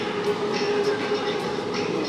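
An electric train rushes past nearby in Thailand, a loud continuous roar of wheels and rail noise that holds steady throughout.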